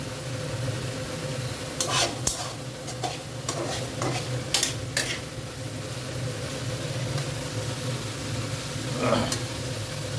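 A lightly spiced masala for a simple egg curry sautés in oil with a low, continuous sizzle, punctuated by a few sharp spatula scrapes and knocks against the pan.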